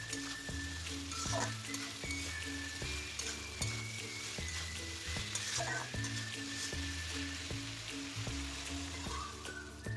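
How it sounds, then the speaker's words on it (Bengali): A spatula stirs fish coated in ginger paste in a hot wok, steady sizzling frying under repeated scraping strokes at a regular rhythm, close and continuous. "তাই ওভাবে নেড়েচেড়ে মেখে নেব ভালো করে"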